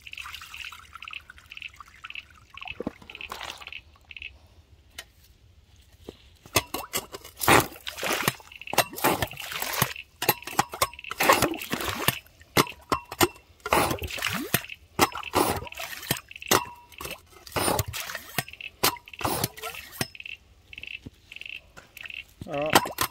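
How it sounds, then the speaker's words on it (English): Water is tipped into a gravel hole on bedrock and sucked up with a bait pump, giving a run of wet splashes, slurps and drips in irregular bursts, with faint talk at the start. "Tip some more water back in, just so I get a few sucks of the bait pump."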